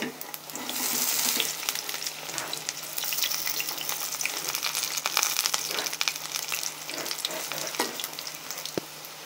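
Fenugreek leaf pakoras sizzle in hot oil in a steady loud crackling fry, with scraping and stirring clatters as the fritters are turned, close and continuous without speech.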